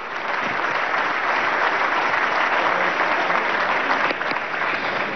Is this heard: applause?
yes